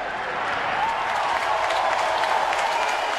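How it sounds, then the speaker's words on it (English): A ballpark crowd at a Chicago Cubs at Pittsburgh Pirates baseball game swells into a broad, sustained roar of cheering and applause as a popped-up ball is caught, with the crowd noise filling the clip. "listen to this crowd when this catch is made"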